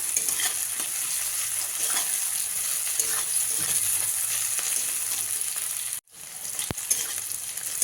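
Onion and garlic cloves frying in a pan while pumpkin curry is prepared, giving a steady loud sizzle with stirring scrapes throughout and a brief drop near the end.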